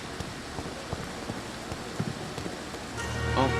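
Steady rain falls in a gothic video game, a continuous hiss of drops with faint patters and ticks, joined near the end by a low rumbling swell.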